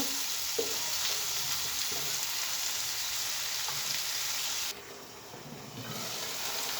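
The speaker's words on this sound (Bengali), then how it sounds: "মশলাটা একটু ভালো মতো কষিয়ে নেব" Spice paste being sautéed in a pan for a beef tripe dish, a steady moderate sizzle with occasional stirring that dips quieter near the end, no talk.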